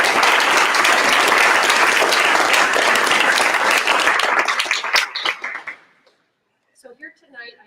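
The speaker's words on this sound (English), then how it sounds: "I'd like to just stop here and give Hans a round of applause" An audience at an architecture lecture gives a dense round of applause that holds steady, then thins into scattered claps and stops, followed by a brief voice speaking.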